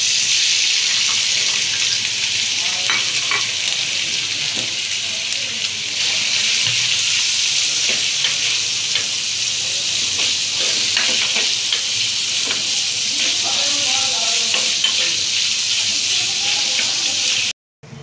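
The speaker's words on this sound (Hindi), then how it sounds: "ये कढ़ाई के अंदर हमने 3 टेबलस्पून ले लिया, इसके अंदर घी ले लिया और इसके अंदर डालेंगे चिकन डालेंगे" Chicken pieces sizzle vigorously in three tablespoons of hot ghee inside a kadai, a dense, loud frying hiss that runs unbroken and close before cutting off abruptly at the end, with a few faint words underneath.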